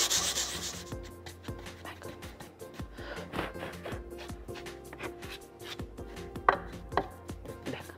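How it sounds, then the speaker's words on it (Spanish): Sandpaper is rubbed by hand across a small metal sheet in a craft workshop, giving repeated short scratchy strokes in an uneven rhythm, close and moderately loud. "Voy a lijar un poquito también esta chapita"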